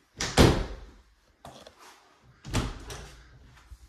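Coat closet door in a Chandler, Arizona house being handled, with a sharp close-up thump, then lighter clicks and another bump as it opens, each sound brief and separated by short pauses.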